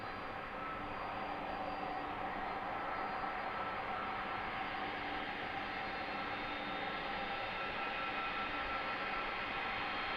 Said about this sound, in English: think that's the second UPS flight